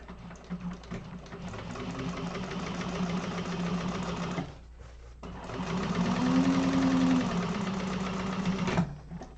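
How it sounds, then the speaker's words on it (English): A sewing machine runs a reinforcing row of stitches through vinyl, its fast steady mechanical whir going in two runs separated by a short pause. "I'm going to go through with another row of stitching just for strengthening"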